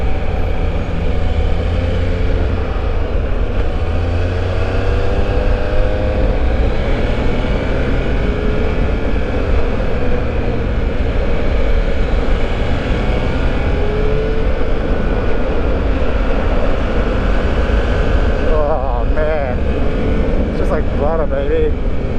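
A 2021 Triumph Speed Triple 1200 RS motorcycle engine pulls hard and rises in pitch as the throttle opens toward 7,000 rpm, loud and continuous with wind rush, while a rider talks over it.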